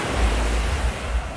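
Waves washing onto soft white sand at Spennah Beach in Entebbe, Uganda, a steady close rushing surf with low wind rumble over the microphone, brief and without voices.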